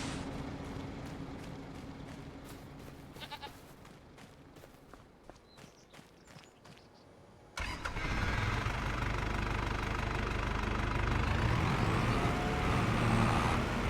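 Soft footsteps give way to a truck engine in Farming Simulator 25 that abruptly starts and holds a loud, steady idling rumble for the remaining seconds.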